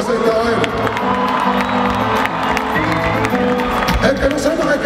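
A crowd at a Cubaton concert cheers, whoops and applauds in a continuous dense roar, with shouting voices mixed throughout and a loud voice speaking over the noise.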